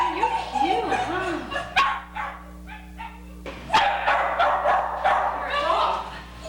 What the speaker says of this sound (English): Hi, little dog.